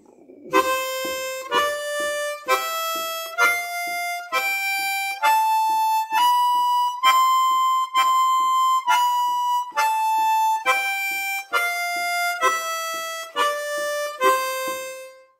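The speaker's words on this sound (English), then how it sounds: "each note will last for 2 beats, and I will put a tongue slap on the start of each note" Harmonica notes are held for two beats each, roughly fifteen in a row stepping up and back down in pitch, every one opening with a sharp percussive tongue slap, clear and close.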